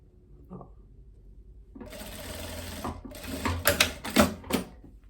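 A sewing machine stitches a seam on a viscose blouse, starting with a short whir and then running in bursts of rapid needle clatter that grow louder and stop and start several times.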